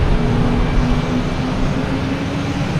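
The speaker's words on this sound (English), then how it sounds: "We got a Allegiant airline here just cutting traffic and just getting out there." An Allegiant airliner taxiing at Boston Logan airport, a loud, steady engine roar with a sustained low drone, close by and unbroken by speech.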